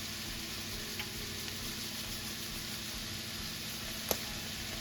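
Chicken and bacon seasoned with thyme and poultry seasoning sizzle steadily in a pan, a soft continuous frying hiss with one faint tick and a sharper clink near the end, no voices.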